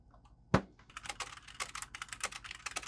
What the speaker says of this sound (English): let's put the cable in here and do another typing test to see if anything changes